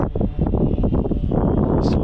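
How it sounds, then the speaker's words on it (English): A strong gust buffets the microphone of an Ascend Aeronautics ASC-2450 HD video drone in flight, loud rumbling wind noise over a steady high motor whine, with a brief hiss near the end. "there is a gust of wind that I kind of needed to lean more to fight some of this wind"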